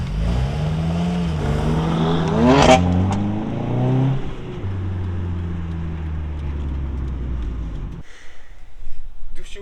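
A Honda car's engine revs hard through rising and falling pitch sweeps, loud and close, then settles into a steady drone before cutting off abruptly. Some talking is mixed in under the engine.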